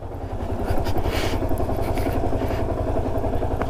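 A motorcycle engine labours steadily up a steep hill road near Ooty, a continuous close, loud drone with rough clattering texture and no pauses.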